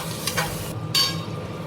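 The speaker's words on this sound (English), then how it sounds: "we'll add about a cup of dahi or curds or yogurt. Let this fry together for about 30 seconds." Yogurt fries in a pan with spices for palak paneer, a close, fairly loud sizzle with two bursts of scraping as the mixture is stirred.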